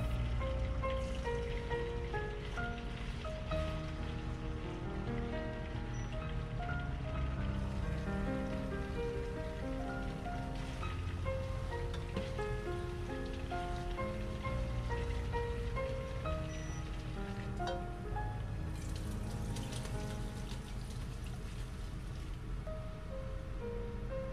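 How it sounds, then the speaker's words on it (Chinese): Pork slices deep-frying in oil over medium-low heat give off a continuous, fairly faint crackling sizzle that holds steady throughout, set against a tonal background, with no one speaking. "油5成热的时候下入肉片，一定要中小火慢慢炸"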